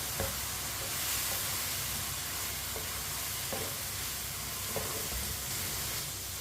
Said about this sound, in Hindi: अब 1 मिनट के लिए पका लेते हैं इसे चम्मच चलाते हुए।